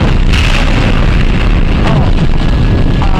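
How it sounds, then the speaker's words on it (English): An explosion goes off in a building, a loud, dense rumbling roar that fills the whole stretch without a break. "we just had another explosion, and that is considerably lower"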